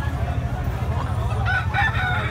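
A white kelso bullstag gamefowl rooster, a young cock with a broad, football-shaped body, crows once over a steady low rumble, the call rising in the second half and fairly near.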